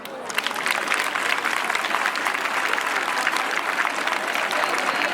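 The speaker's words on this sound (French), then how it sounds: "Acclamez pour eux." An audience at a school excellence awards ceremony in Bohicon applauds award-winning students with steady, dense clapping that carries on throughout, with some crowd voices mixed in.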